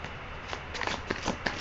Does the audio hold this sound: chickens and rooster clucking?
no